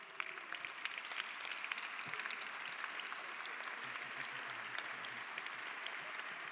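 Audience applause at a university centennial benefit dinner, a steady wash of many hands clapping from a seated crowd, moderately distant and even throughout without a clear break.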